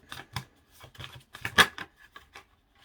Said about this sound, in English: the cards that fell out just then